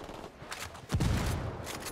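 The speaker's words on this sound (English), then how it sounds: "I am being shot at" Gunfire aimed at the player in Ghost Recon Wildlands: a rapid burst of shots crackling over a noisy battlefield, with a heavier low thump midway, loud and close.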